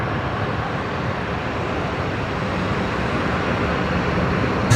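A Jetstar Airbus A321neo arriving at Brisbane Airport from Denpasar, heard as a steady, broad distant jet roar with no talk, holding even and slowly swelling slightly toward the end.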